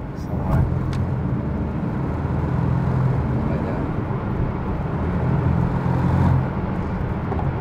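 A Porsche 718 Cayman GTS 2.5 accelerates from inside the cabin, its engine a steady, loud low drone that swells slightly as the throttle opens, with voices talking over it.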